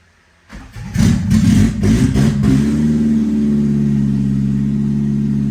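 A Suzuki car fitted with a B18C Type R engine cranks briefly with a few starter bursts, catches loudly and settles into a steady, rumbling idle close by.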